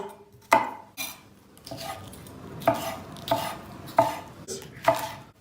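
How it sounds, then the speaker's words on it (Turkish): A knife chops two garlic cloves in a home kitchen, producing about six sharp, distinct knocks against a board at an uneven pace, close and fairly loud, with no talking. "İçine iki diş de sarımsak doğuruyoruz."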